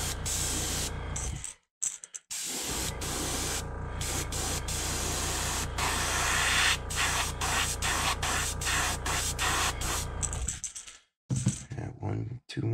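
An airbrush sprays pearl white paint onto a crappie fishing lure in a close, loud hiss, delivered in long sustained passes separated by brief pauses and a few short bursts near the end.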